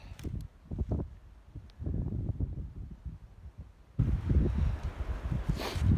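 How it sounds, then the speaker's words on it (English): Gusty wind buffets the microphone in rough, low rumbling bursts in a cold, snowy field, growing louder and harsher in the second half. "Really cold, super windy"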